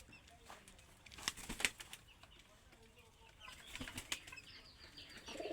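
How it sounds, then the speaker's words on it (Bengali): Pigeons on an agro farm flap their wings in short bursts after being let out, with soft rustling and faint bird sounds around them. "কবুতর এখন ছাড়ি দিয়েছে"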